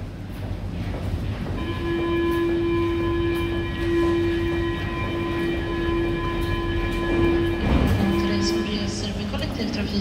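A Stockholm subway train at Karlaplan station on a Monday morning, heard close by as a steady loud rumble with high, sustained tonal whines from the motors. Near the end a brief louder burst cuts through, and voices murmur under the noise.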